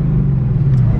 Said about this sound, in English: Right now we're in sport, so if I was to rev it up